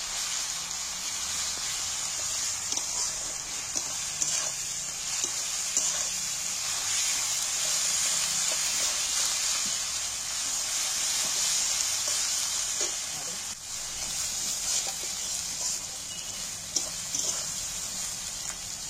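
Steady sizzling of onion and garlic frying in hot oil, a continuous crackling hiss with occasional faint stirring scrapes, close and even throughout.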